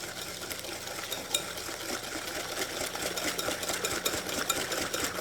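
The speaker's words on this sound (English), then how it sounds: "We're just going to mix it until we get that well incorporated." Banana bread batter with vanilla extract being mixed, likely by an electric mixer, giving a steady mechanical whirring hum with faint sloshing, moderately quiet and continuous.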